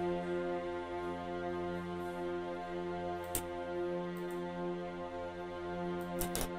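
Synth strings sample playing in FL Studio, a steady sustained chord of smooth, even tones at moderate level, broken by a few short bright clicks or percussive ticks near the end, with no speech.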